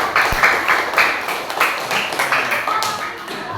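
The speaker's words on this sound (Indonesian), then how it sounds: "Beri tepuk tangan untuk kelompok 1" Scattered hand claps for a student group in a classroom session, uneven and fairly close, with irregular individual claps rather than a full roar.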